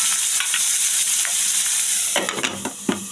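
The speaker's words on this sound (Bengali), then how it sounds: "সবজিগুলো একটু ভাজা ভাজা হতে থাকুক।" Vegetables frying in a pan for chire pulao, a flattened-rice pilaf, give a steady close sizzle throughout, with a few louder stirring scrapes and clatters near the end and no talking.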